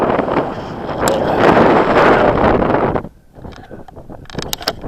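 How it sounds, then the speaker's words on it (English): Strong wind roaring across an exposed mountain fell in the Lake District, loud and buffeting the microphone for about three seconds before dropping to a quieter gusty rustle. "The wind's fair blowing through here."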